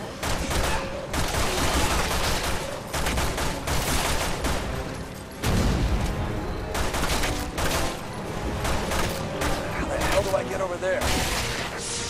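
Repeated bursts of gunfire in the video game Resident Evil 6, loud and close, come in clustered volleys with brief gaps, mixed with game effects and speech.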